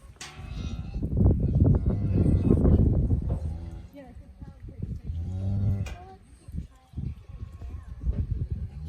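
A cow being treated for a prolapse moos and bellows loudly and close by in several long calls, with people talking over and between the calls.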